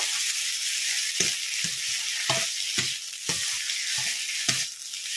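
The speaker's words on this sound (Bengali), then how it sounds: "এটা জাল দিয়ে পুরোপুরি শুকিয়ে নিতে হবে।" Ghatkol leaf paste frying and drying out in a pan, with a steady sizzle broken by repeated scraping strokes of a spatula stirring the mixture, close and fairly loud, no voices.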